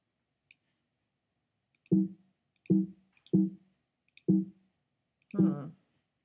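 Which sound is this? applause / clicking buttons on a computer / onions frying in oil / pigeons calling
clicking buttons on a computer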